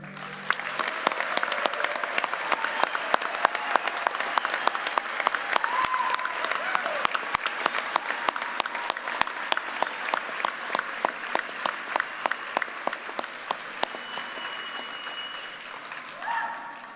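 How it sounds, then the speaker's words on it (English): A round of applause for graduates at a university fall commencement, crisp scattered claps from a modest audience sounding continuously for about sixteen seconds, thinning near the end with faint voices underneath. "Please join me in another round of applause for our graduates."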